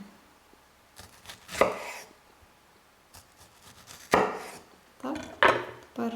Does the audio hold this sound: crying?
no